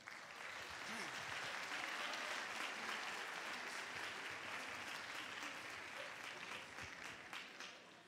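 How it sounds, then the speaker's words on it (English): Steady applause from an audience at a school band concert, a dense wash of clapping that holds at an even level for several seconds before tapering slightly. "Let's give them a round of applause for being here."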